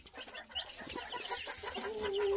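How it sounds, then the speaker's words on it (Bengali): A small Japanese bantam chicken clucks softly in short, throaty bursts, fairly close, with faint background noise and no talking. "জাপানি বেনথাম মুরগি"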